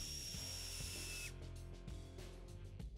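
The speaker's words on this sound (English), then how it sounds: "Using a heavy-duty drill and the PZ bit provided, install one screw in the fastener strip" Heavy-duty drill with a PZ bit driving a screw into a rubber belt fastener strip, a loud whirring burst that cuts off after about a second, followed by faint clicks and handling noise.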